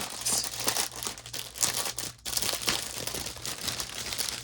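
Plastic packaging crinkles and rustles up close while a Stamps of Life alphabet stitchable die kit is unboxed, with continuous uneven crackling bursts and no talking.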